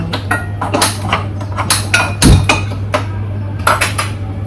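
A metal cooking pot is handled and set down on a gas stove, giving a run of close clanks and clinks with one heavier knock, over a steady low hum.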